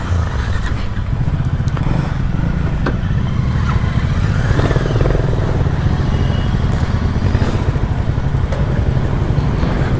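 A group of modified Hunter 350 motorcycles, along with a Triumph and an Adventure 250, pulling away together: a loud, steady, close engine rumble that continues through the whole stretch.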